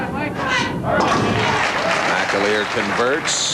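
A big crowd at a bowling tournament cheers and applauds, with shouts rising over broadband clapping while a commentator talks throughout.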